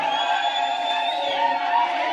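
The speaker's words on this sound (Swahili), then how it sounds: "Vigelegele jamani kina mama." A crowd of women ululates at an ODM political rally in Kenya, with high, wavering trills layered over a steady roar of cheering that stays loud and close throughout.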